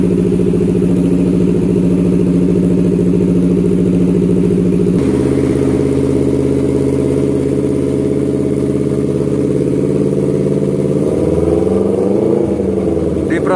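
A Honda CBR250RR motorcycle engine running loud and close during injector cleaning, a steady drone that changes tone midway and then wavers as the revs rise and fall near the end.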